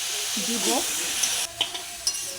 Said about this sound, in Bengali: কুমড়োর তরকারিটা একটু ভাজা হচ্ছে, একটু ভালো করে ভেজে নিচ্ছি